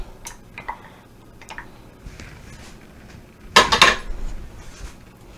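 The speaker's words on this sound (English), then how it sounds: "Giving it a good stir." A spoon stirs chicken fricassee with heavy cream in a pot, giving a short burst of clinking and scraping against the pot in the middle, with quieter scattered taps and clicks of utensils before and after.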